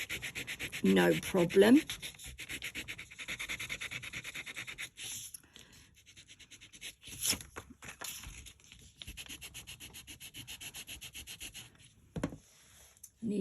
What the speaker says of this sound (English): So get the eraser, we'll take out that.